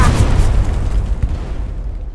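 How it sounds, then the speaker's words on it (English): Explosions in a shooter video game boom loud and close, a heavy deep rumble that rolls on and slowly fades. "I'm literally surrounded by explosions, Tom!"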